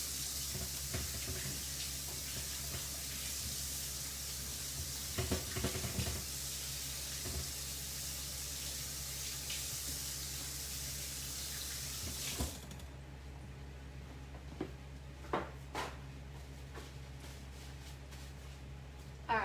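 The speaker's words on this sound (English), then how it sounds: "I'm gonna get my hands a wash." A kitchen tap runs in a steady hiss while hands are washed under it, then shuts off at about two-thirds through, leaving quiet room tone with a few small knocks and clinks.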